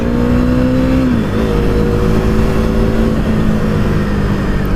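A small-capacity KTM motorcycle engine accelerates hard during a ride, a loud steady drone that climbs in pitch, dips at a gear change, then pulls up again with wind rush close by.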